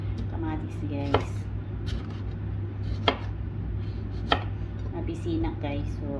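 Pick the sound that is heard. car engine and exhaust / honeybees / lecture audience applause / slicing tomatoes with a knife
slicing tomatoes with a knife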